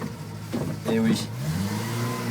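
A Renault 4's small engine in a 750 kg car hums and revs softly while driving, rising and falling in pitch, with voices talking over it.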